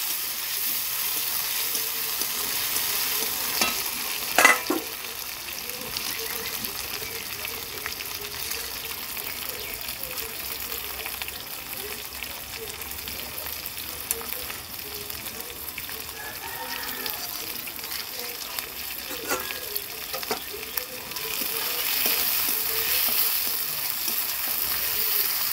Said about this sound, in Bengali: এবার দিয়ে দিলাম টমেটো কুচি, এবার মশলাটাকে একটু কষিয়ে নেব।